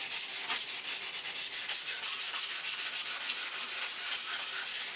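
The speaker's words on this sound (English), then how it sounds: "for those of you that just can't stand not to sand something, 320 grit." Sandpaper of 320 grit rubs by hand across a carved wooden stool seat in quick, even back-and-forth strokes, a steady, close, hissing scratch with no voices.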